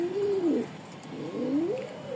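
A pair of Giribaz pigeons coo close by, two rising and falling rolling coos following one another in a steady, moderately loud rhythm with no talking.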